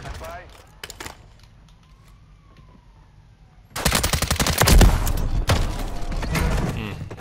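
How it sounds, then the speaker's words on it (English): Heavy close-range shotgun gunfire in Call of Duty Modern Warfare 3 multiplayer, opening with a few sparse sharp shots over quiet game ambience. Then comes a sudden loud stretch of repeated booming blasts and clatter. "Shotgun."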